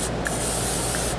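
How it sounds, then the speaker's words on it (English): An aerosol can of cooking spray hisses in one steady, close burst while coating the sides and bottom of a baking pan for a turtle cake. "Maybe the end of our cooking spray too."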